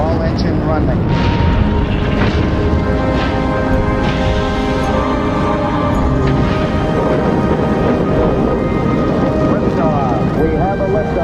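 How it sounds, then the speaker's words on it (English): Archival recording of the Apollo 11 Saturn V rocket lifting off, a loud continuous broadband roar with steady rumbling, overlaid with a voice speaking throughout. "We have a liftoff, 32 minutes past the hour. Liftoff on Apollo 11."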